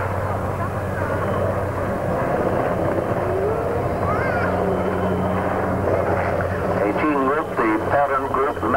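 Sea King helicopter at a 1992 air show, a steady loud rotor and engine drone running continuously with a public-address commentator speaking over it.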